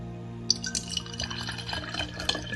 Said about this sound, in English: we're going to pour the water into the machine